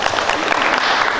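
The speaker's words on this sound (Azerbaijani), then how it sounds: "Bunu alqışlayaq" Audience applause at a book launch ceremony, a dense steady wash of many hands clapping throughout, loud and close with no pauses.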